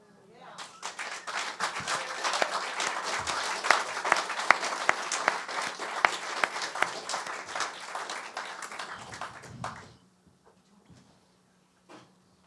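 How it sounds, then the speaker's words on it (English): Audience at a speaking-tour event applauds for about ten seconds, dense sustained clapping with a few sharper claps and some voices, then stops abruptly into near silence. "Can we have one more round of applause for them?"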